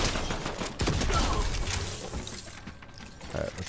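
A bot fires in Fortnite, producing a rapid fusillade of distant and near gunshots with mechanical clatter, while a person talks over the shooting.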